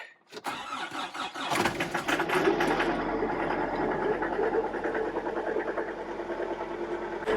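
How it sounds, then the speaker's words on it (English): A glow-plug diesel engine cranks briefly, catches and settles into a steady, loud, rough idle that runs on alone without talk. "We'll wait for the glow plugs to finish warming things up. Give her a start."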